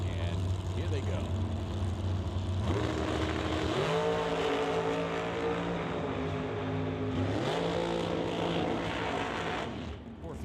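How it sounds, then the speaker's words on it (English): A 2008 TNT chassis dragster launches down a drag strip with a loud, sustained engine roar that rises sharply in pitch as it accelerates, then climbs again in a second surge before tapering off at the end. "It's a 2008 TNT chassis dragster, and here they go."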